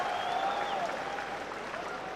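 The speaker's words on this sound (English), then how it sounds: "A ripple of applause greets him landing on the 9" A modest ripple of applause from the crowd at a professional pool championship quarter-final in Hanoi follows a shot. It is soft and steady, with a faint tonal whine briefly sliding over it.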